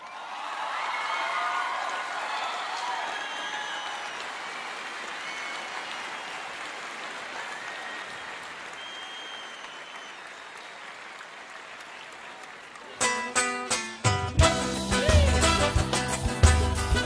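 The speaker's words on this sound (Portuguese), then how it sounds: "Queria que vocês recebessem com um aplauso bem carinhoso" An audience applauds a singer as she takes the stage at a Brazilian music show. The steady clapping fades gradually, then music starts up abruptly near the end.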